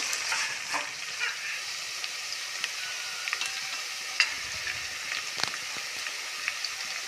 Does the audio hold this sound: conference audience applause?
no